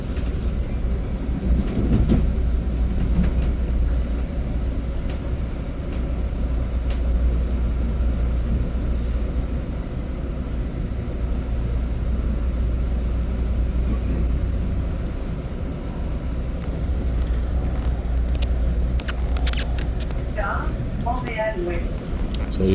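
Continuous low rumble and wheel noise inside an Exo commuter train on the Vendôme to Sainte-Anne-de-Bellevue run, steady and moderately loud throughout, with a few faint clanks and squeals near the end.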